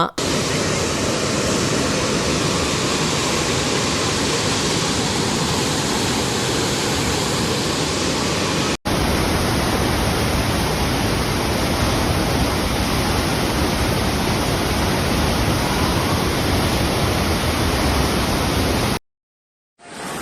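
Floodwater from the Tirunelveli floods pours out into the sea, a loud, steady broadband roar of rushing water that runs unbroken for most of the stretch before cutting out near the end.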